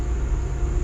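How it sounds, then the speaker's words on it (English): Train parked beside the Mississippi River, a steady low idling rumble that stays loud and close throughout with no breaks and no voices. "Sounds like a train is parked right in front of me."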